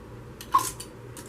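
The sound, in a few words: tightening lid and ring on canning jar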